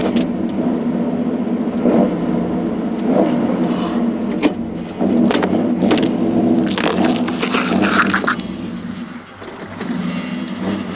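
An idling vehicle engine hums steadily while the gearshift is worked, with a few sharp clunks and mechanical clicks as it is forced into gear; no talking.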